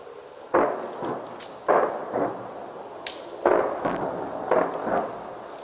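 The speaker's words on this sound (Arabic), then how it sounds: "قصف في الطياره، نروح على مدينه يبرون" Aircraft bombardment explosions striking the Syrian town of Yabroud, a series of about five heavy, muffled booms at irregular intervals, fairly distant and echoing, with no talking.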